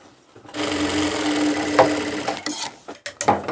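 A sewing machine stitches fabric for a men's pant-cut pajama, running in one steady near burst for about two seconds before breaking into short, choppy stitching spurts.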